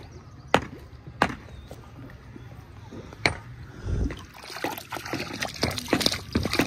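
Fresh water runs out from a household motor-driven pump, with splashing and gurgling flow, several sharp knocks, and a low hum underneath, fairly quiet and close.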